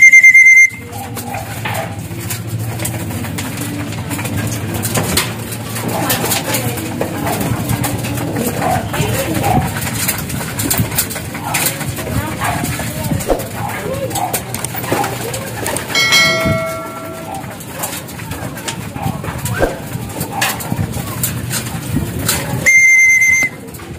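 Racing pigeons gather at a feed of kalentong mix, cooing and fluttering close by while bell-like chimes and whistles ring through a loud, busy outdoor loft scene.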